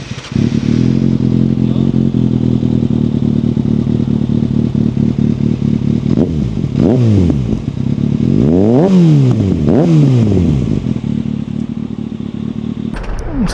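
A Kawasaki ZX6R sportbike fitted with an Akrapovic exhaust idles loudly close by, then is blipped through several sharp throttle revs that rise and fall back to a steady rumble.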